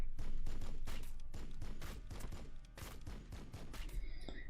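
Rapid bursts of gunfire from squads in the turn-based strategy game Warhammer 40,000: Battlesector, with dense overlapping shots that carry on steadily before a short lull and a final burst.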